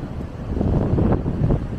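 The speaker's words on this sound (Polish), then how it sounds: "No bo mocny wiatr jest." Strong wind on a Baltic beach near Unieście and Mielno buffets the microphone in a continuous low roar, swelling and easing slightly throughout.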